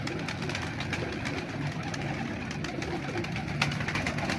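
Pigeons, including a prized breeder's bird, coo and call steadily in a loft, a dense low murmur of overlapping coos with a faint engine hum beneath and no talk.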